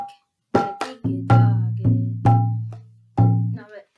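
A mridanga drum plays a pattern for the Prabhupad mantra, mixing sharp treble slaps with deep resonant bass strokes in an uneven rhythm, close and clear, with no voices.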